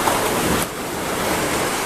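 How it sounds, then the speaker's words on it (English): Ocean waves wash steadily onto the beach at a Riviera Maya resort at dusk, a loud continuous surf roar with a brief dip partway through and no voices. "Very nice ocean."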